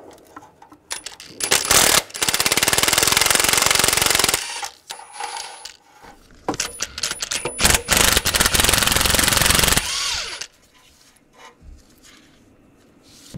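Power tool with a 14mm socket running on the exhaust manifold nuts of a 2013-2016 Dodge Dart, heard as two loud, harsh sustained bursts of a few seconds each, separated by quieter clanking handling noises.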